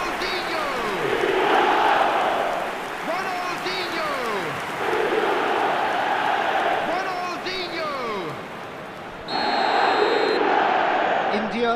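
A stadium crowd in an eFootball match roars and chants in swelling waves, loud and steady throughout, while a commentator talks over it.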